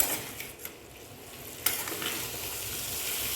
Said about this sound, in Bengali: সবজিটা দিয়ে দিচ্ছি সবজিটা দিয়ে এবার একটু নাড়াচাড়া করে